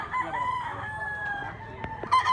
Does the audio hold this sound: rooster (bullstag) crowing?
yes